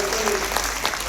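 An audience at a Mumbai talk applauds, a steady round of clapping from a crowd heard at a moderate distance, with a voice briefly audible at the start.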